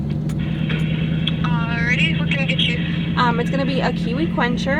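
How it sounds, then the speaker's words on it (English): A steady, loud engine drone fills the cab of a pickup truck that runs louder than a car. It hums on continuously beneath close conversation between people inside. "We are in my husband's truck and it's a louder car"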